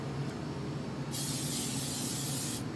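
A steady aerosol cooking spray hisses into a rice cooker pot for about a second and a half, close and loud, starting and stopping abruptly over low room hum.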